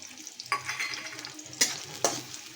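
Dry pumpkin seeds dropped into a hot pan fry with a soft sizzle, broken by a few sharp scraping stirs of a utensil, close and fairly quiet.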